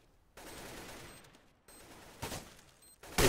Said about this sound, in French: Et puis Gobi qui fait tomber Stavros, beaucoup d'AWP qui résonne, et Speedy qui prend le last kill.